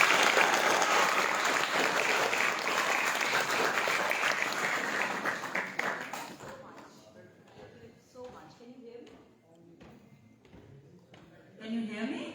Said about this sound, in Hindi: एक बार जोरदार तालियां मेरा।